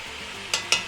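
Meat cooking with green chili in a pan over medium heat, a soft steady sizzle with two brief louder bursts of stirring or scraping, close and without talk.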